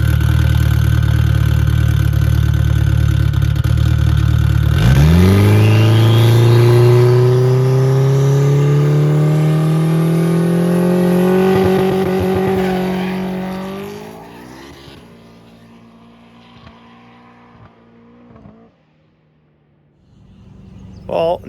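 A Honda S2000 race car accelerates hard on a pass, its engine note climbing steadily in pitch for about ten seconds before easing off and fading to a quieter idle, close and loud throughout.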